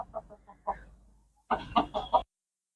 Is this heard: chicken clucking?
yes